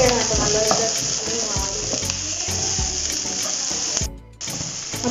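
Onions fry on a high flame for kothu porotta, a loud, continuous sizzle with stirring scrapes that cuts out briefly near the end before resuming.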